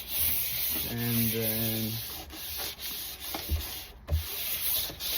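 Close sandpaper rubbing on a surfboard's surface being scuffed up before custom painting, a steady rasping hiss with a brief tonal hum near the start; someone speaks a couple of words.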